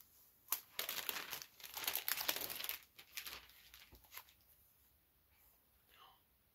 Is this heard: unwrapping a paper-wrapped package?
yes